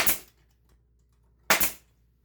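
A brad nail gun fires twice while a wooden box is being assembled, each shot a sharp, close snap about one and a half seconds apart, with near silence between.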